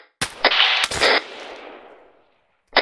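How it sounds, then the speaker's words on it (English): Gunfire in ARMA 3 during an urban raid in Iraq: a few sharp rifle cracks in quick succession, loud and close, each tail fading with echo before another shot near the end. "Say again, sniper fire?"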